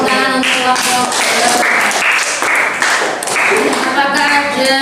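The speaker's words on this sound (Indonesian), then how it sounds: "Tepuk tangan untuk kelompok." A classroom group in a teacher-training session gets applause, dense clapping from many hands filling the room for several seconds, with voices mixed in.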